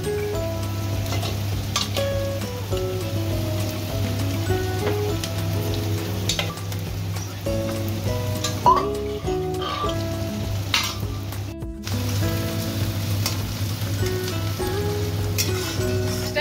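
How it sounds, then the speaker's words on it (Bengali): Onions fry in a pan for a mutton curry, a steady close sizzle and crackle running throughout, with a constant low hum behind it and occasional soft clinks; no one speaks. "পেঁয়াজটা ভাজবো"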